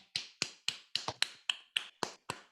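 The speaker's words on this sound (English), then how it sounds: "can we clap?" Nine sharp, evenly spaced hand claps from one person in a podcast studio, each crisp and close with a short decay, steady rhythm and no talk.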